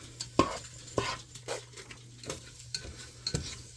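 Food browning in oil in a pot, a soft crackling sizzle with irregular spoon scrapes and clinks against the metal, close and moderately quiet, no talking.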